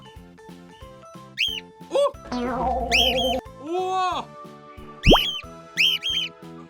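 Shrill whistled parrot calls and squawks played from a phone come in short bursts with gaps between, while a person exclaims briefly in between.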